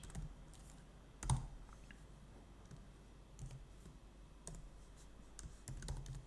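Quiet typing on a computer keyboard while writing pipeline steps for a Node.js and Jenkins setup, scattered soft key clicks with one sharper tap, close and faint over a low room hum.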